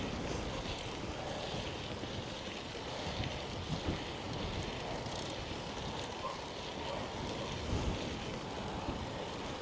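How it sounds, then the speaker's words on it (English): Strong wind buffets a cyclist riding on a smooth crushed-rock path near Oulu, Finland, a steady, loud roar of rushing air with occasional gusts and no talk. "this wind though is killer"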